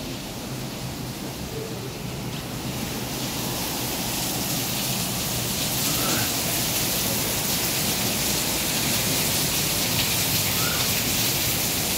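Heavy monsoon rain falls in Islamabad, a dense, loud, steady hiss of rain on surfaces that swells slightly after the first few seconds and continues without a break.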